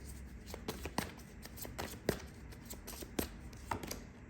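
Tarot cards shuffled by hand at close range, soft riffling flicks and light taps repeating unevenly in a quiet room with no talk.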